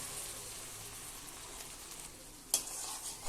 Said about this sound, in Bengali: এগুলোকে এবারে 2 মিনিটের জন্য নেড়ে চেড়ে নিয়ে ভেজে নেব